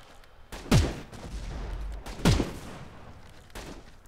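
Gunfire in the Battle Prime mobile shooter game, three separate sharp shots or short bursts spaced over about four seconds, each with a booming decay.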